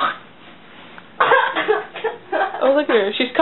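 A young woman coughing after eating melted ice cream cake, a few harsh coughs mixed with voices talking and chuckling nearby.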